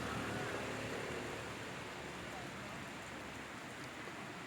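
Rain falls steadily on people queuing outside a liquor shop, a dense, even hiss of downpour throughout with no break or distinct drops.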